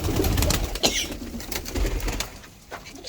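A pigeon coos in low, soft phrases close by, repeating steadily over a few seconds, with a faint brief flutter partway through and no voices.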